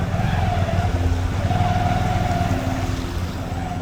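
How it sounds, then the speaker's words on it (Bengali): A motorbike rides through a waterlogged lane in Shibtala, its engine droning steadily and loudly throughout with a continuous rumble and slight wash of water. "আমি বাইক চালিয়ে যাচ্ছি"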